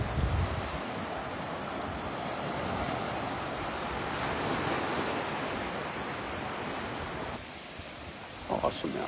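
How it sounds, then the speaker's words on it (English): Steady wind gusts over a beach at Delnor-Wiggins in North Naples, Florida, buffet the microphone, a broad rushing noise with faint surf behind it. It stays fairly even throughout, with a short dip near the end. "Little breeze blowing. You might hear a little wind noise."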